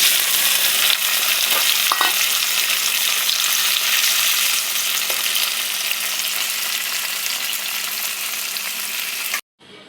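Chopped tomato hits hot oil in a pan with already fried garlic, ginger and green chilli, sizzling loudly and steadily up close while a spatula stirs and scrapes now and then, ending abruptly.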